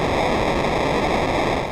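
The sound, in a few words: sample and hold synth noise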